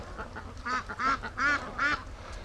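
Free-range ducks quack in a barn, four loud nasal quacks in quick succession, close by and alone without voices.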